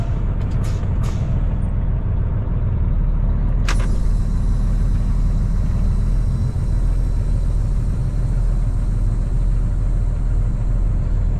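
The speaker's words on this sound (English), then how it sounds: "So I tap my brakes a few times here just to let them know" A semi truck gives a few quick air-brake taps, sharp hissing bursts in succession, followed by one louder release, then a constant loud engine rumble and hiss as it prepares to roll out in the snow.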